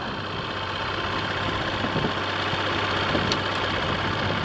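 A motorcycle engine idles steadily in neutral, a continuous low, even rumble holding at the same level throughout with no talking.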